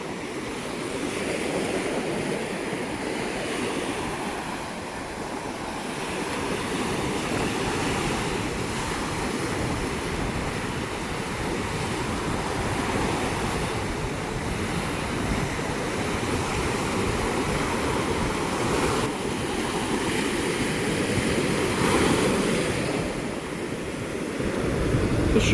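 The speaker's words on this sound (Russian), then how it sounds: "Смотрите, волны какие," Strong Black Sea waves roll onto a beach on a windy day, a continuous loud roar of surf with surging swells and wind buffeting the microphone, no voices heard.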